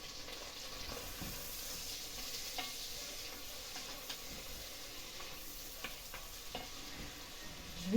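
Turkey pieces seasoned with salt and white pepper fry gently in a pan, giving a soft, steady sizzle with a few faint scrapes and clicks of stirring, and a sharper knock right at the end.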